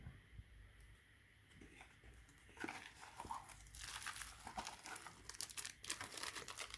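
Someone unpacks an Athena 80cc engine kit for a Minarelli vertical scooter, with close, quiet crinkling and rustling of plastic and paper packaging that grows busier and louder partway through, no talking.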